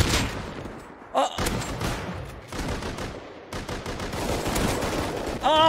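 Rapid bursts of gunfire from the survival video game Rust, including shotgun and pistol shots, crackle loudly and continuously in dense volleys with brief pauses, with a few faint game sounds mixed in.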